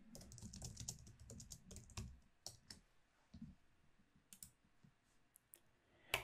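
Keys clack on a computer keyboard as a short comment is typed into a feedback form, with quick clustered taps early on, then sparser, softer keystrokes and pauses toward the end.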